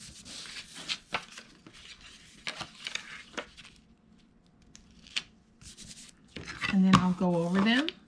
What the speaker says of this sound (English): go over them with my big old spatula to make sure they're stuck